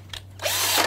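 Power drill driving a screw into a wooden board while building a greenhouse shelf, a brief whir then a sustained close, loud motor whine lasting under a second.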